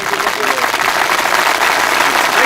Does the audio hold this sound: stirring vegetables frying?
no